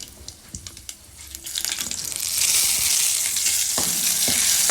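Chili and curry leaves frying in hot oil for a palak dal tempering. Sparse crackles and pops come first, then a loud, steady sizzle builds in and holds, close up with no talk.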